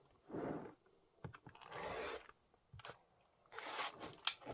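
Fabric of a sewn quilt block being trimmed makes close, rasping cuts and scrapes in several short bursts separated by quiet pauses, with a few small clicks between them.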